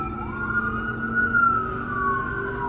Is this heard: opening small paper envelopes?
no